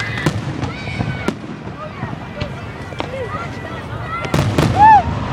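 Fireworks crackle and pop in a series of sharp bangs at a 2011 display in Petaluma, some near and loud, with shouting voices and talk mixed throughout.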